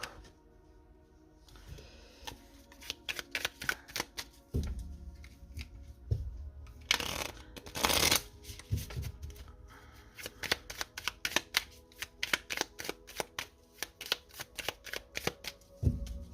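A deck of tarot cards being shuffled close up, with quick riffles and bursts of fluttering card flicks, sharp snaps, and short pauses between rounds, nearby and clear, with no talk.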